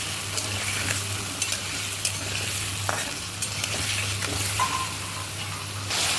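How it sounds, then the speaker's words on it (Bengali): Potatoes fry until reddish in a pan for a cauliflower curry, giving a steady close sizzle broken by stirring scrapes and clinks, over a low constant hum. "আলুটা একটু লালচে লালচে ভাজা হোক"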